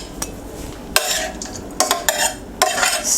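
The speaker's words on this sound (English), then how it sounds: "Stir it well" Peanuts being stirred into a vegetable mixture in a pan with the heat just switched off, giving several scraping, clattering bursts of utensil against pan with short quiet gaps between them.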